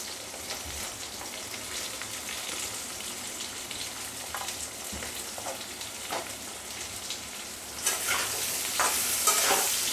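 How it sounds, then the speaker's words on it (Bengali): Teasel gourd frying with taro and potato in a pan, a dense, continuous oily sizzle and crackle with scraping stirring strokes that grow busier toward the end, no voices. "আলুর সঙ্গে, কচুর সঙ্গে আর কাঁকরোলটাকেও আমি খুব ভালো করে ভেজে নেব"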